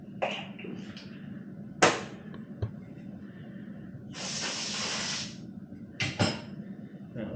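An aerosol can of brake cleaner sprays onto a motorcycle handlebar grip on a 2023 Yamaha MT-10. There is one steady hiss of about a second, close by, amid short clicks and handling noises.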